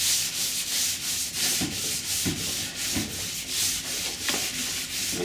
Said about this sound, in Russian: С водичкой не так будет забиваться шкурка.